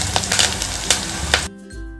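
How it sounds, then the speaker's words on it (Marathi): Chopped onion and curry leaves sizzle and fry in a pan, with spoon stirs and clinks for about a second and a half before it drops to a quieter low hum. "आता कांदा छान असा परतून घेऊयात।"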